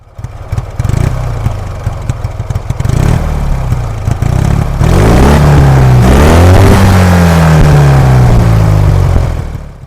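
A restored KMZ M-72N motorcycle engine runs loud and close, idling with a rough clatter before revving up and down in repeated surges.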